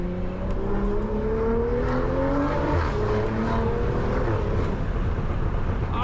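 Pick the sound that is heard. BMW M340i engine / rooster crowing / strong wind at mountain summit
BMW M340i engine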